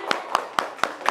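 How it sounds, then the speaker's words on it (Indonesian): Five sharp hand claps land at an even, quick rhythm, close and distinct, as a school class applauds a group after its presentation. "Beri tepuk tangan untuk kelompoknya Naswa."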